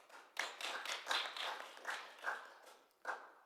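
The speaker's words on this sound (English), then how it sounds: "That's the first time anybody's got a round of applause." A brief round of applause breaks out in a council committee room, a handful of people clapping in uneven bursts, fairly quiet and close, with no talk over it.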